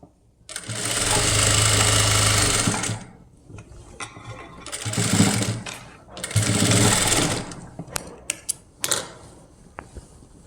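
An electric sewing machine stitches a child's crop top in bursts, loud steady whirring runs of a few seconds each separated by pauses, with small clicks and taps of fabric handling near the end.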